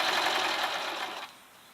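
A sewing machine stitches a two-tone infinity scarf in one steady whirring run that cuts off near the end, fairly close and moderately loud.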